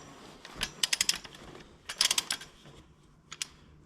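A wrench ratchets in short bursts of rapid clicks while tightening head bolts on a John Deere 4840 tractor engine during an overhaul, close and fairly quiet with pauses between bursts.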